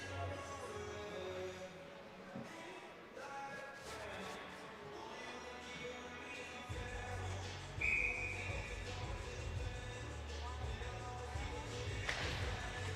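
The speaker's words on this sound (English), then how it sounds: "And we get a whistle." A referee's whistle sounds once during an ice hockey game, a short shrill blast cutting through the rink's crowd murmur and play-by-play commentary.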